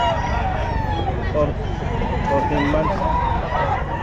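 A rooster crows at a busy pet market in Bocaue, its call rising over constant crowd noise and nearby conversation.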